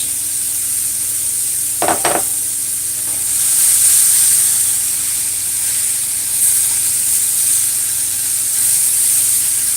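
Mushrooms added to a pot of broccoli and franks for an omelette, a steady bright sizzle and hiss of frying with a couple of brief stirring clatters near the start, no talk.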